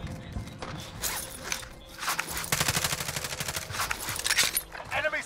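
Rapid automatic gunfire in a Warzone Zombies Royale match: dense, continuous bursts that grow heavier toward the end, mixed with game effects and people talking over the action.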